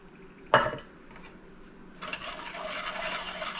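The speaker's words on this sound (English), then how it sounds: "Just whisk that up until it's nice, even texture" Sugar and apple juice being whisked in a bowl for a rib glaze: one sharp utensil clink against the bowl, then a steady, close scraping whisk that builds and keeps going with no talking.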